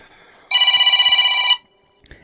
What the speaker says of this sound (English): And your phone is ringing off the hook tonight